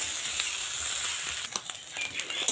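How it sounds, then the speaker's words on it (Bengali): Dried shrimp fry in hot oil, a steady close sizzle broken near the end by a few scraping stirs, with no talk. "উলট পালট করে লাল লাল করে ভাজে নিন।"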